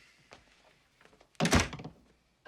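A door is locked shut in a film scene, heard as one heavy thunk with a short rattle after it, set against a quiet room with no talking.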